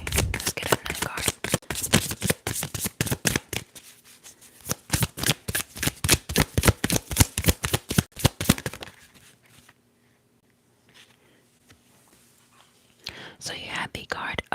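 Tarot cards shuffled in quick, crisp riffling bursts close to the microphone, then a quiet pause while a card is drawn, followed by more shuffling.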